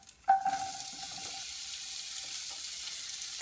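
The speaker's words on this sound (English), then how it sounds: "I'm going to saute my onions." Onions sauteing in a pan after bacon, a soft steady frying hiss following a brief clatter at the start, with a faint tone running through it, quiet and close with no talking.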